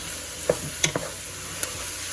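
Seasoned ground beef frying in a pan, a constant close sizzle broken by a few clicks and knocks as a utensil turns the meat.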